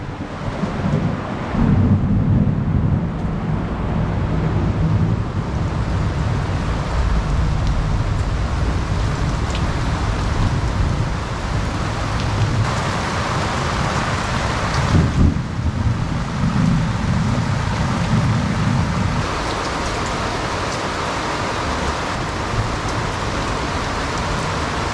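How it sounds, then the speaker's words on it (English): A thunderstorm pours rain over a sailboat at an anchorage off the Costa Rican coast, a steady loud hiss of rain with low rumbling thunder swelling and fading throughout. "Later that night, a storm rolled in."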